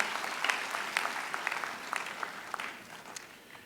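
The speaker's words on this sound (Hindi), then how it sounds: "जोर से ताली बजाइए अगर आपने ताली बजानी है तो" An audience at AIIMS Rishikesh breaks into sustained applause, a dense patter of many hands clapping with a few sharper claps standing out, gradually thinning toward the end.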